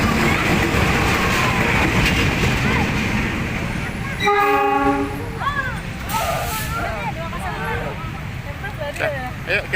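A long cargo train rumbles through Pasar Senen station with a loud steady roar, broken midway by a sustained horn blast, while voices chatter nearby over the passing wagons.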